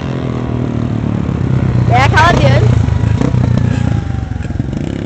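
A dirt-bike motorcycle runs along a dirt trail at a trail-riding event, its engine buzzing and revving steadily in the background while people talk nearby.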